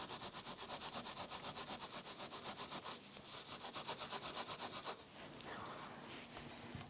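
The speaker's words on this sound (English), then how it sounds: "I'm going to use some wire wool to clean the copper coin off" Wire wool scrubbed back and forth against a copper coin to clean it, giving a fast, rhythmic rasping scratch, close and steady, with strokes that turn smoother and more continuous in the last couple of seconds.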